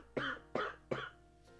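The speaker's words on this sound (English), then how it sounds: "I hope that coughing's not too loud" Three sharp coughs in quick succession, close and fairly loud, followed by a faint fourth.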